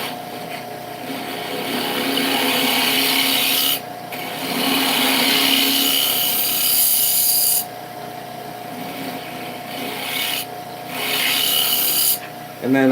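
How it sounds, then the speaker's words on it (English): A round carbide tool scrapes a small wooden bowl turning on a lathe, making a loud, continuous gritty rasp that briefly dips a few times as the tool lifts and returns. "I'm finishing up with my round carbide, just so it kind of doubles as a scraper and goes a little bit faster."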